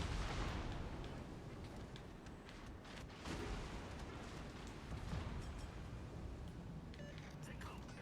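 Naval guns fire in World of Warships Legends during a battle, rumbling broadband booms with a heavy blast at the start and further bursts around the middle, set under a constant din of battle noise.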